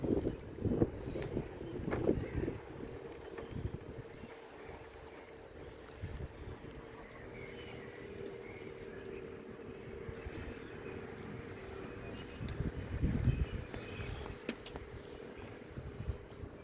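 Bitterly cold wind blowing steadily across a sheltered lakeside park, a continuous rumbling roar with gusts swelling and fading, close on the microphone, with no talk.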